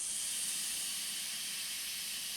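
Steady, loud hiss of steam from water heated by the energy of splitting plutonium atoms in a nuclear power plant, continuous and unbroken throughout with no voices.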